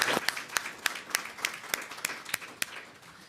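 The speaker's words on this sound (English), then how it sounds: "Please join me in a round of applause." Symposium audience at the end of a day of panels giving a round of applause, thinning to a few separate claps with distinct sharp hits spaced irregularly over a low murmur of remaining clapping.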